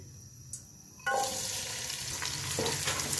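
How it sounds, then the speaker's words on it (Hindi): Onions dropped into hot oil, about half a cup, in a pot over medium flame for chicken biryani: a sudden loud sizzle bursts in after a quiet start and keeps up a steady crackling hiss. "ऑयल गर्म हो चुका है, अब इसमें प्याज ऐड करेंगे।"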